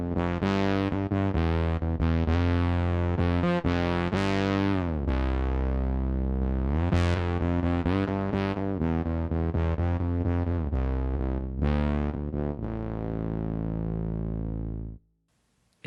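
Gliding, buzzy '80s-style synth bass notes from a Fractal amp modeler played in a sliding melodic line, loud and sustained, ending with a brief reverberant tail before cutting off.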